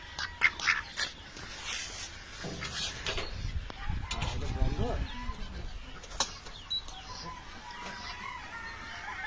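Ducks quack and fowl cluck in a busy duck farmyard as ducks are sold and delivered, with voices and general commotion mixed in throughout.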